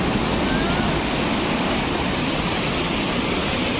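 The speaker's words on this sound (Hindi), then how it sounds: "तो ये है पार्वती रिवर" The Parvati River at Manikaran Sahib in the Kasol valley rushes past in a steady, dense roar of fast-flowing water, close and loud, unbroken throughout.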